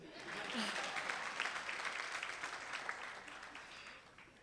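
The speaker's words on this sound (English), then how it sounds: "Clap for me." Audience applause at a law partners' event for women judges, a faint, distant, steady patter of many hands clapping that swells slightly and then tapers.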